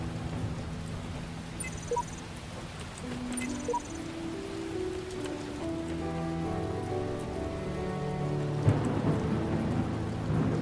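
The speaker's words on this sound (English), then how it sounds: "It's a rainy one." Rain patters steadily on surfaces in the puzzle game The Talos Principle, with low rolling thunder rumbling underneath and swelling toward the end, all without any talking.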